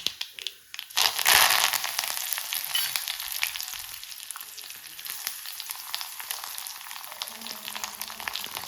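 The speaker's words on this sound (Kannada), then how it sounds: "ಅರ್ಧ ಟೀ ಚಮಚ ಆಗುವಷ್ಟು ಸಾಸಿವೆಯನ್ನು ಹಾಕೊಂಡಿದ್ದೇನೆ. ಸಾಸಿವೆ ಎಲ್ಲ ಚಟಪಟ ಅಂದ" Mustard seeds crackle and pop rapidly in hot oil with green chillies, a dense, close sizzling spatter that keeps going without talk.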